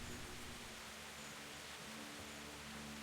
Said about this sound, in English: Nope, rain's back.